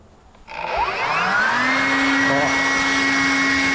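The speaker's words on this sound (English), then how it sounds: "let's see how we go with this blower" A Ryobi 18V HP brushless cordless leaf blower spools up after a half-second and holds a loud, steady whining roar on its highest setting, close by, with no talk.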